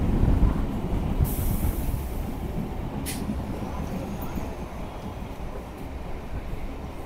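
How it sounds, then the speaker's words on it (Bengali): A metro train pulling into Noapara station, heard from a passing local train: a steady rumbling rail roar with a brief hiss and a short squeal partway through, fairly loud and continuous. "এই আরেকটা মেট্রো আসছে"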